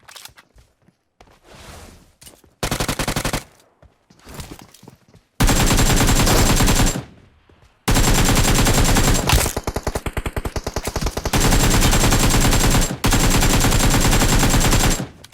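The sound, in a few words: gunfire in the video game PUBG Mobile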